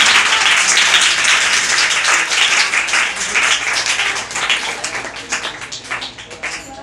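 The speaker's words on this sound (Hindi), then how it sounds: "जोरदार तालियां मेरे साथ पूरा करिए।" Loud applause from a church congregation at a Good Friday service, dense clapping that holds steady for several seconds and slowly thins toward the end.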